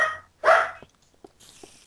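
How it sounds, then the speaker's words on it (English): A happy dog gives a few short barks, the loudest burst standing alone near the start, followed by fainter yips under quiet background sounds in a dark maze setting. "Someone has a happy dog."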